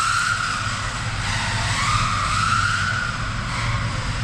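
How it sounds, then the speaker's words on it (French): Noisy motor of a remote-controlled model car on an indoor run, a steady buzzing whine that rises and falls in pitch with throttle, heard close and alone. "Ce qui est bien avec ces moteurs bruyants, c'est que tu entends bien le moteur là."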